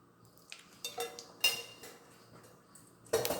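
A kadai set down on a home kitchen stove, with a few soft metallic clinks and knocks, then one sharper clatter of the pan at the end, close and otherwise quiet.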